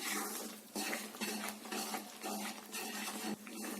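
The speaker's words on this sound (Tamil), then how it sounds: "இப்போ இது நல்லா திக்காகிற அளவுக்கு இந்த அளவுக்கு நல்லா கலந்து விட்டுட்டே இருக்கலாம்" Thickening white sweet mixture stirred in a pan over medium heat, a close, steady scraping swish repeating in strokes about every second, with no voices.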